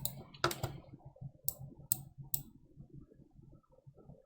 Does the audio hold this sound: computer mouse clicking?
yes